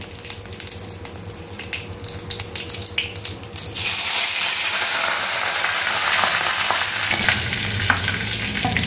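Vegetables with cumin, dried chilli and curry leaves frying in oil: a quieter crackle with a low hum beneath, then a sudden loud, dense hiss of sizzling that holds steady to the end.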